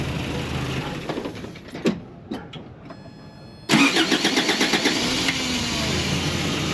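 After a few clicks and brief cranking sounds, a Toyota pickup truck engine with a faulty ignition starter switch catches and starts, settling into a loud, pulsing run close by.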